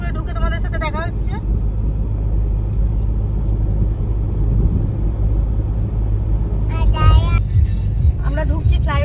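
A family car cruises along a highway on a long road trip, giving a loud, steady engine and road rumble that carries throughout, with voices chattering over it at the start and again near the end.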